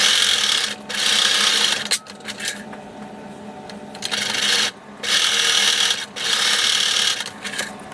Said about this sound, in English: sew the seams with a 3/8 inch seam allowance